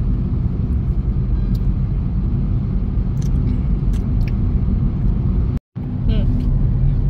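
A car cruises along a busy highway near Katraj and Satara, heard as a steady, loud low rumble of road and engine noise. Faint higher sounds drift in now and then, and the noise drops out briefly near the end.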